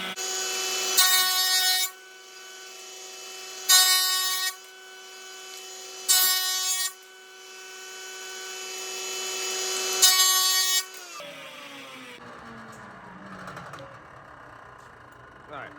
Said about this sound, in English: So I'm gonna take this to the planer